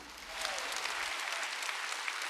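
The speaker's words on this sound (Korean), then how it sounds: "진실인 사람만 박수 치라고" A church congregation at a Korean Sunday worship service bursts into clapping, a dense wash of many hands that rises quickly and holds steady at moderate loudness without talk.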